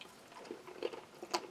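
Roasted salted peanuts, some quite large, crunched between the teeth in a few soft, irregular bites with quiet gaps, close to the mic and fairly faint.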